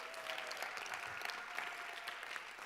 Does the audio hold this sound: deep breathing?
no